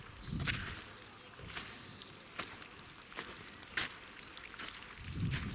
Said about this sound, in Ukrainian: Поливай, заливаю, влагозарядку делаю.